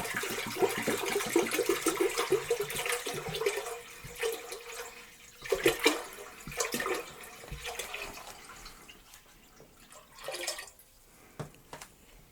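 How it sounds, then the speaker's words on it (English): Water splashes and runs into a big pot while mint wine is being made, a close, uneven pouring stream that fades out and returns in short bursts. "the remaining water, we're going to put that in a nice big pot"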